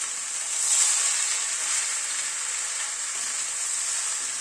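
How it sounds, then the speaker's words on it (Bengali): Boiled dal being stirred into vegetables frying in a pan for a winter-vegetable khichdi, giving a steady, close hissing sizzle with a soft swell near the start and no talk. "এবার ডালটাকে মিশিয়ে নিচ্ছি।"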